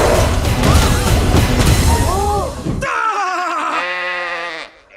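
Sheep bleating in a comedy film scene, a chorus of wavering, overlapping bleats standing out clearly after a loud crashing, noisy passage with voices, then fading at the end.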